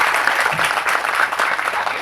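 Audience applause at a Tamil film audio launch event welcoming director Vetrimaaran, a dense steady clapping from a large crowd that holds at an even level throughout with no talk over it.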